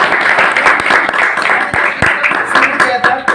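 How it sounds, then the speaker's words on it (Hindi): An audience claps for a senior guest at a business plan meeting, a dense burst of hand claps mixed with voices throughout. "एक बार बलिराम सर जी के जोरदार तालियां"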